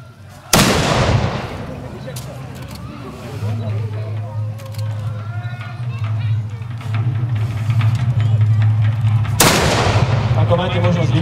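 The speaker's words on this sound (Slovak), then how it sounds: "Takže sú pripravení k palbe, ja ich poprosím, aby strieľali." Matchlock muskets fire in a historical soldier-training demonstration: one sharp, loud shot, then several seconds of people talking and a low rumble, then a second loud report.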